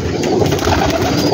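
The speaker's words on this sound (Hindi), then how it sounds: "माशाल्लाह देखो कबूतर" Pigeons on a big Gujranwala rooftop loft holding around 2000 birds, a brief loud burst of soft cooing blended into dense, rustling flock noise.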